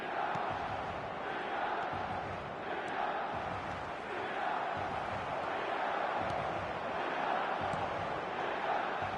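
A football video game's stadium crowd at the San Siro buzzes as a steady, fairly distant roar of many voices, with swelling chants and cheers rising and falling throughout.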